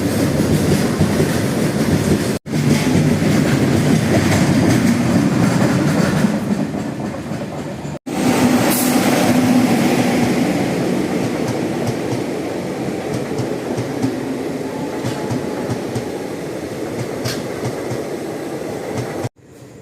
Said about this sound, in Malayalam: നൈറ്റിലുള്ള ഈ ട്രെയിൻ യാത്ര, അതിൻ്റെ ഒരു വൈബ്